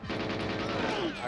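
An AK rifle fires a rapid automatic burst in the Nintendo 64 shooter GoldenEye 007, evenly spaced shots rattling in a loud continuous string.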